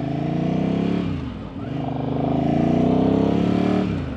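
A rebuilt Ducati Hypermotard with a balanced bottom end and crank runs steadily while riding, its loud, smooth engine drone dipping once briefly before climbing back to a sustained pitch.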